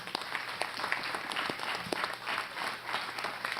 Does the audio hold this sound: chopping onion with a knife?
no